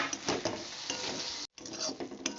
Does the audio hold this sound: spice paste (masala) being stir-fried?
yes